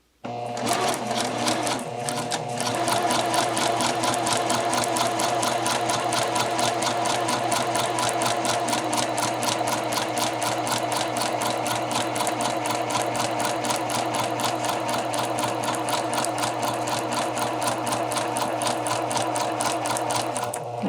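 A sewing machine stitches jacket pieces with long stitches, a continuous fast mechanical whirr and clatter running steadily for about twenty seconds.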